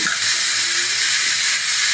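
Bottle gourd sizzling in a hot wok with spices after prawns were fried, a steady loud hiss with no break.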